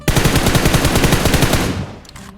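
Sustained automatic gunfire in PUBG Mobile, aimed at a car, a loud rapid burst of evenly spaced shots lasting about two seconds before cutting off, with faint clicks after.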